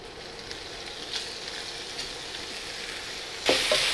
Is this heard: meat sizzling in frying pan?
yes